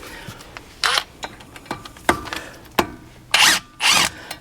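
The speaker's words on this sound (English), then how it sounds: "we're going to use that impact driver again on that" Impact driver working loose the brake rotor bolts on an Acura during a front rotor job, heard as several short bursts of whirring and rattling hammering, the longest two close together near the end, with softer clanks and tool handling between.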